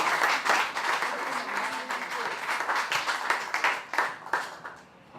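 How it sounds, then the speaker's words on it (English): Applause from an audience at a regional business awards ceremony in Cape Town, dense clapping that carries steadily before thinning out and fading near the end. "All right, another round of applause."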